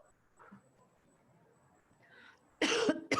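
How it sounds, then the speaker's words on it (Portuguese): A single loud, close cough bursts out near the end after a stretch of quiet with faint murmurs. "E toda vez que eu estou tossindo,"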